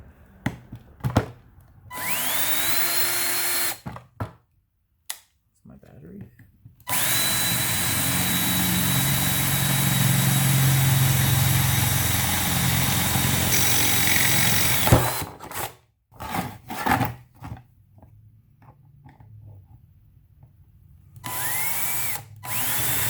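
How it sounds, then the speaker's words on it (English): A power drill whines loudly in several bursts, spinning up and winding down, with one long sustained run through the middle and short pauses between. "Now we're going to drill the hole"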